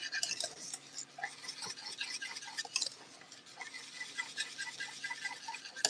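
Soft, quick clinking and scraping of a utensil in a small bowl as almond, lemon and vanilla flavorings are mixed together for a coconut sugar banana pudding, faint and steady with no talking.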